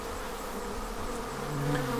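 Honey bees drinking sugar syrup from feeder reservoirs buzz steadily, a close, continuous drone with overlapping wingbeat tones that grows slightly louder toward the end.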